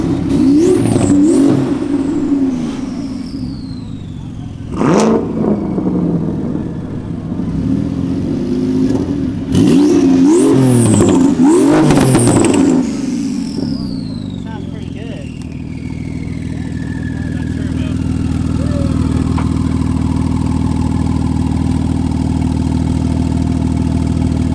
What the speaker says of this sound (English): Hearing the turbo in this thing makes me drool.